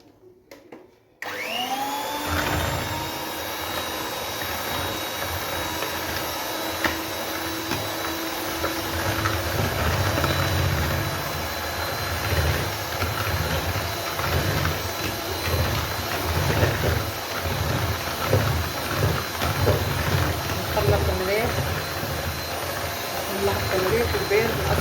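An electric mixer beats eggs with sugar for an Algerian milk cake, a steady close motor whir running throughout with rattling bowl texture and a voice speaking over it.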